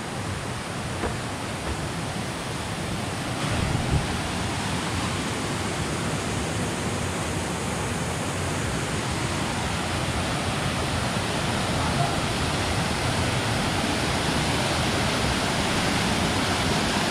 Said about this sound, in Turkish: Yukarıdan şelale akıyor. Küçük bir şelale.